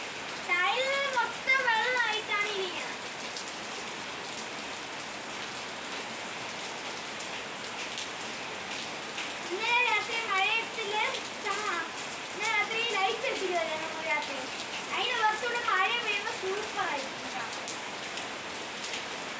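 Steady rain falls and patters throughout, while children's voices chatter and call out over it in several bursts.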